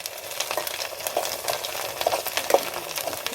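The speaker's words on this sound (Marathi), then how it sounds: "हा वाटण केलेला मसाला हे बघा जरा तो फ्राय झाला पाहिजे ढवळ त्याला जरा" Ground wet masala sizzles in a pan over a wood-fired stove while being stirred, giving a steady crackling fry with repeated scraping strokes of the spoon, close and moderately loud.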